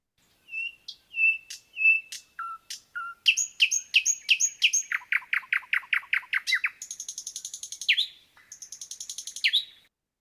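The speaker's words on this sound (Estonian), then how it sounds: "ööbik" Nightingale singing in Estonian nature, a varied sequence of clear whistles, rapid trills and buzzy repeated notes delivered in bursts with short pauses, close and alone with no other sounds.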